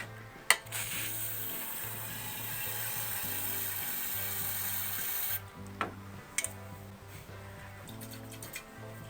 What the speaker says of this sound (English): We're going to spray that into the hole, try to clean everything out.